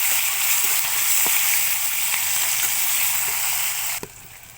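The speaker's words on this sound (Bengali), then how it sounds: "শিমটা আমি ভেজে নেব।" Flat beans fry in hot oil with a close, steady, loud sizzle throughout, broken by a few faint clicks and a sharper knock near the end; nobody speaks.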